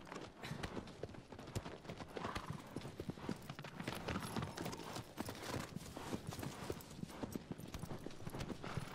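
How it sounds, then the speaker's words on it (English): A horse in the video game Shadow of the Colossus gallops, rapid hoofbeats clattering in a continuous rhythm, close and fairly loud, with a brief whinny mixed in. "It's really hard to ride this horse."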